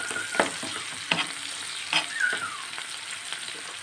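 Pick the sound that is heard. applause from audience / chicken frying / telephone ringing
chicken frying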